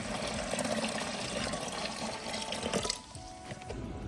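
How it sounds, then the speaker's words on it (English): Water from a reef aquarium tank pours steadily into a container set inside a bucket, a continuous splashing gush that tapers to trickles and drips near the end, close and without talk. "Well, a lot of water, and we're gonna pour it."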